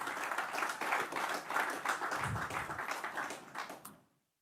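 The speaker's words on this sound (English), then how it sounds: "a round of applause." An audience at a ribbon-cutting ceremony opening a learning centre breaks into sustained applause, dense and fairly distant. The clapping carries on for about four seconds, then cuts off abruptly.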